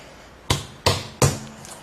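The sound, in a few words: tyre reamer pushed into a puncture hole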